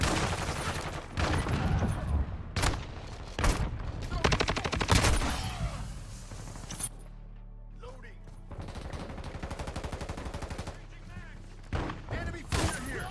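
Rapid bursts of video game gunfire and explosive thuds crackle through a busy shooter match, with machine-gun rattles, sharp single shots and game voice callouts layered over a low rumbling background.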